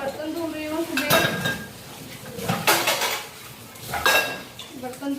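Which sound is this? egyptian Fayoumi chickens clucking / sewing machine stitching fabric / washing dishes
washing dishes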